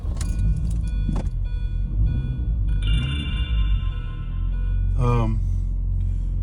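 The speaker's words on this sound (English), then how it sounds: "I started the car." A car engine cranks and catches, then settles into a low idle inside the cabin, with warning chimes and tones sounding over it.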